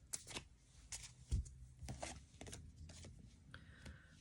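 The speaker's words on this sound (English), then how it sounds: "Last shuffle for Geminis." A deck of tarot cards is shuffled by hand, soft quick riffles and rubbing taps in an uneven rhythm, faint and close, with no talking.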